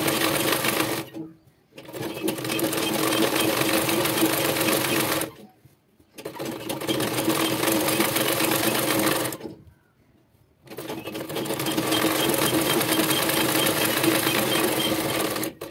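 Sewing machine stitching the side seam of a two-panel petticoat, running in three long steady bursts of close rapid whirring separated by brief silent pauses.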